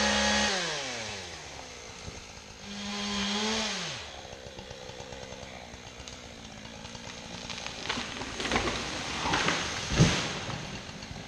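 A chainsaw works through a dead, hazardous tree, revving up and down early on, then cutting steadily with a buzzing drone and crackling wood noise that ends in a louder crack near the end; no one speaks.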